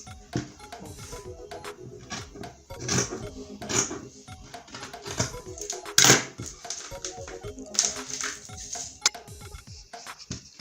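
Scissors snip through Ankara print fabric for a waist bag. Close, crisp crunching cuts come in uneven bursts, with one sharper, louder snip midway.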